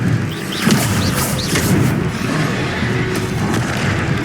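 Confringo blasting spells exploding during a battle in the video game Hogwarts Legacy, a dense rumbling barrage of booms with crackling bursts and whooshing spell effects.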